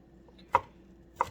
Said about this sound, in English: chop this up rather finely